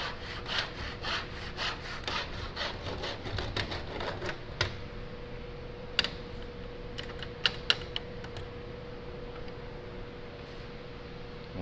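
Hand saw cutting wood in a miter box: rapid, rhythmic rasping strokes up close for several seconds, then the sawing stops and a few sharp knocks and clicks follow over quiet.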